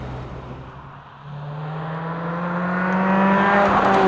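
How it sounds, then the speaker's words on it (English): A Toyota MR2 with a swapped-in Camry engine pulls away from a stop and accelerates hard through the gears, the engine note climbing steadily in pitch and growing louder, close and alone with no talk over it. "it's always the initial acceleration from a stop that I think is going to be most noteworthy, and it really is here"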